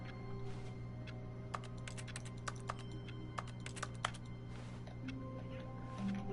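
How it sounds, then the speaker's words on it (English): Quick clicks from a computer keyboard, tapped in irregular bursts over a steady low electrical hum, quiet and close. "Oh, my keyboard works."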